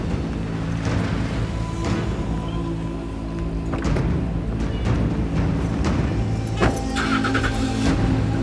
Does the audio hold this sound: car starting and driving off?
yes